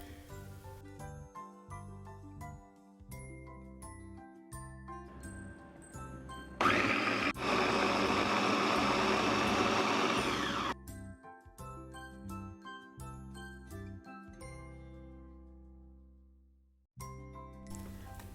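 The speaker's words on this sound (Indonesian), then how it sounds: "Kemudian kita haluskan terlebih dahulu menggunakan chopper." A food chopper grinds peeled frozen shrimp in a loud whirring burst lasting about four seconds, set between stretches of tinkling background music.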